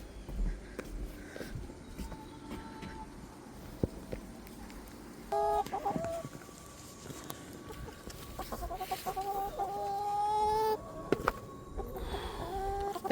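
Backyard chickens cluck and squawk excitedly over food scraps, several birds near and far, with intermittent louder calls over a soft outdoor background and occasional footsteps.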